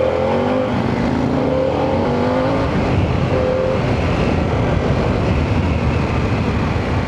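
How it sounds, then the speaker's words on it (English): Heavy wind roar from a ridden 2024 Harley-Davidson Pan America with the engine pulling underneath, brief rising tones as it accelerates, loud and continuous with no talk. "I'm riding a Harley"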